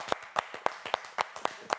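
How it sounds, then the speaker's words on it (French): Applause from a TV audience at a Paris stage of a Francophonie world-tour show, heard as evenly spaced sharp claps, about ten in under two seconds, close, crisp and steady. "on la remercie, on l'applaudit bien fort, Nolwenn."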